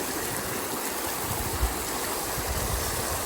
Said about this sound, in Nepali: पानी वाटर फाउन्टेन, वाटर फाउन्टेन।